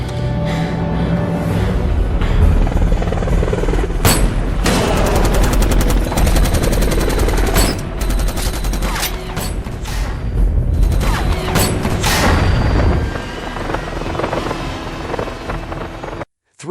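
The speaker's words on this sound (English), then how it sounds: "Tragically, the helicopter rained bullets on them before Bob could act" Helicopter machine-gun fire from the film Shooter: loud, sustained bursts of automatic gunfire with sharp repeated cracks and booms that run almost without a break until an abrupt cut at the end.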